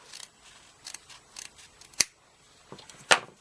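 Scissors snipping ribbon at an angle for a double loop bow, a handful of short crisp cuts close by, spaced irregularly with two sharper final snips.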